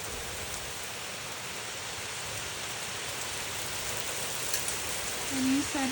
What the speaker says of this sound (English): That's definitely not light rain.